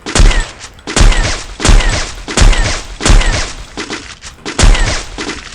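An AWM sniper rifle fires no-scope in a video game: about six heavy, booming shots at a steady pace, each with a sharp crack and a short decaying tail, loud and alone.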